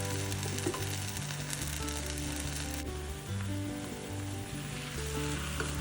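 A chilla cooking in a lid-covered pan gives a steady, fairly loud sizzle under a droning hum of tonal background music, with no voices.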